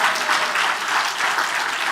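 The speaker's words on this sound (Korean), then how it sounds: "자, 박수하겠습니다." A congregation at a church New Year's Eve service claps together: a close, continuous wash of many hands, even in level from start to finish.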